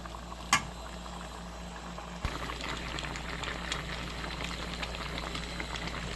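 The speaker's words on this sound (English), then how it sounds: "Again, the sizzle" Cumin seeds (jeera) fry in a hot pan, giving a steady close hiss and crackle that starts with a sharp knock and carries on evenly, with no talking.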